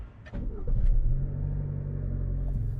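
A car pulls away at night from an old manor, its engine rumbling low and steady as it gathers speed, with a few faint knocks at the start.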